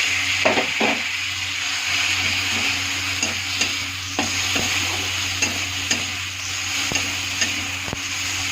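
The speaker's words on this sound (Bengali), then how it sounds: "টমেটোটা দিয়ে একটু ভাজা ভাজা করবো" Onion and tomato frying in a pan, a steady close sizzle with repeated soft scrapes and knocks of a spoon stirring through it, no talking.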